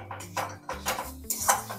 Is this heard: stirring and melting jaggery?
yes